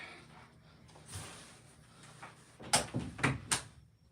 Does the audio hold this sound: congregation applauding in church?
no